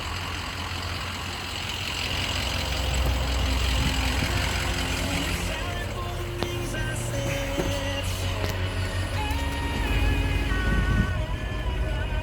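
A 2004 Ford E450 Super Duty work-body truck engine runs at a steady idle throughout, moderately loud and continuous.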